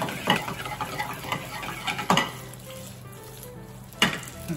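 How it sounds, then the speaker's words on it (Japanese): Penne for a curry pasta browns in a frying pan with a steady low sizzle. Utensils scrape and clink against the pan now and then, and no one speaks. "焼き色がついてきて、うん、 このまま全体的につけてあげるっていう作業ですね"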